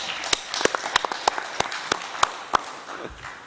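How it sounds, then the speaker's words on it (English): Sparse, sharp hand claps from a modest conference audience applauding a panel at an expo, individual claps clearly separated and rhythmic, fading out after about three seconds. "please join me in giving our esteemed panel a round of applause."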